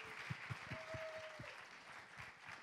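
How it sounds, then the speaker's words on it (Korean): Audience applause welcoming a married pastor couple about to sing at a church unification prayer concert, a steady wash of clapping with sharper individual claps standing out, moderately loud and continuous. "박수로 네 환영하겠습니다"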